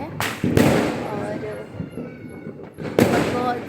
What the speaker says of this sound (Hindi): बहुत ज़्यादा पटाखे और ये सारी चीज़ें हो रही है एकदम मस्त